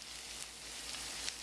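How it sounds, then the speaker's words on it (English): Potato pancakes fry in a pan over medium-high heat, giving a faint, steady sizzle and hiss with a few small pops. "these are the 2 last pancakes that we are frying, and you can see they're nice and golden brown"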